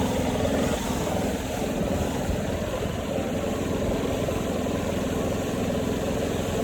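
A Gravely Pro-Stance stand-on lawn mower runs loud and close while cutting grass on a spring property, its engine giving off a dense, unbroken drone with a low rumble and a hiss in the upper range.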